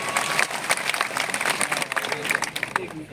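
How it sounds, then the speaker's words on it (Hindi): Strong audience applause at a political rally for an Adivasi party in India, brisk dense clapping with crowd noise that stays loud and continuous throughout. "इसलिए एक बार जोरदार तालियां आप सबके लिए।"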